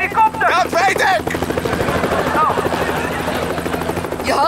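A helicopter in a live-action kids' TV series scene, its steady thudding rotor and engine drone continuous throughout, with voices talking over it.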